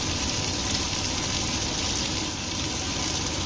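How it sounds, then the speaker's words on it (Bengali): Continuous dense sizzle of chopped onions frying in a wok, steady and fairly loud throughout, with no voices. "পেঁয়াজ একদম লাল লাল করে ভেজে নিতে হবে।"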